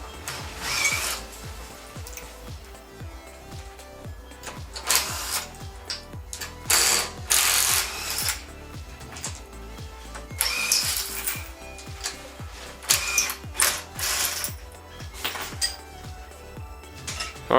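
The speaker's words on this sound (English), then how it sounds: "we're going to go ahead and remove the wheel quick" A car wheel being taken off: close, repeated ratcheting clicks and metallic clanks from a lug wrench or tool, arriving in irregular bursts with short pauses between them and no voices.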